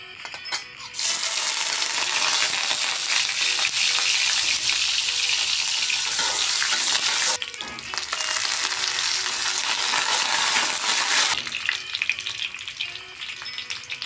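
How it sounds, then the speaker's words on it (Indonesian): Shallots sautéing in hot oil in a pan for an Acehnese shrimp dish, giving a loud, steady sizzle that runs almost the whole time, with a brief dip partway before the frying roar resumes. "Lanjut panaskan minyak. Lanjut kita tumis bawang merahnya dulu."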